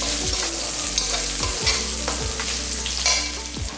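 Okra sautéing with garlic and a slit green chilli in a pan, a continuous loud sizzle with repeated low stirring knocks of a spatula, close up and without speech.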